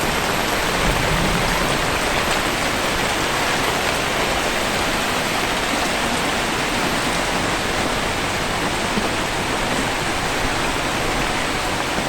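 Heavy rainwater pours steadily beside a house, a dense, constant broadband rush close by with no breaks or voices.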